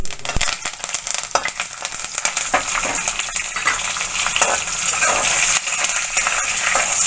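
A tempering fries for a snake gourd and chana dal curry, sizzling and crackling loudly and steadily in a pan. A spoon stirs it and scrapes the metal with frequent sharp clinks.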